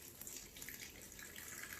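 Water pouring steadily into a tray of peat moss seed pellets, a continuous soft hissing splash that stays even and fairly quiet throughout, with no talking.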